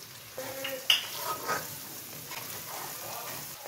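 Onion, ginger and garlic drop into hot oil and hiss, a faint sizzle joined by a clink of a utensil against the pan and brief stirring, quiet and close with no talk.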